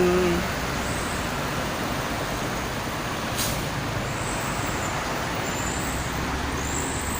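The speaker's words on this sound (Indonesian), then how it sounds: "bis angkutan malam ya, bis malam sama mobil pribadi sangat membludak pada malam ini" Heavy night traffic of buses and private cars on the Jakarta–Cikampek toll road, a dense continuous roar of engines and tyres with a brief hiss partway through and faint tonal whines, loud and steady throughout.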